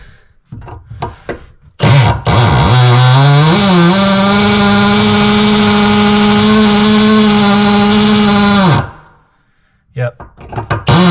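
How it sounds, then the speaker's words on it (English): Loud, close power drill whining at a steady pitch as it bores into a granite countertop with a regular bit, running continuously for several seconds between short stretches of talk. "Let's show what it's like to drill"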